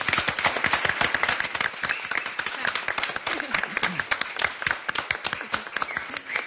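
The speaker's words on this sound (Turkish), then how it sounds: "Onun için Zeynep'e kocaman bir alkış" A studio audience applauds for Zeynep, with dense, steady clapping that is close and loud and continues evenly throughout.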